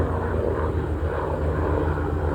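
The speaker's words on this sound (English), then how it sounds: "It's getting noisy out here. I don't know why, but... Oh, the helicopter, okay." A helicopter passes overhead outdoors, a continuous broad rumbling drone that fills the short stretch at steady, moderate loudness.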